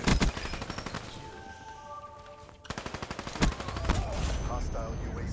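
Rapid automatic gunfire from a video game multiplayer match, sustained bursts of closely spaced shots with brief pauses, loud and up front, with faint game announcer voices in the background.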